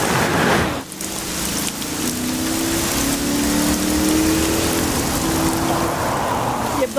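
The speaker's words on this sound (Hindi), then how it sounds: "एक तो आज बारिश भी बहुत तेज है" Heavy rain pours steadily and loudly on surfaces outdoors during a bus strike, a dense continuous hiss with a brief dip near the start.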